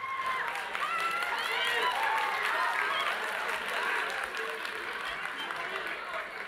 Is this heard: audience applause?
yes